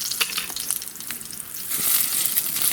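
Lazy chebureki made from lavash fry in a pan, giving a steady, close sizzling hiss with small crackles that grows slightly louder toward the end; no one speaks.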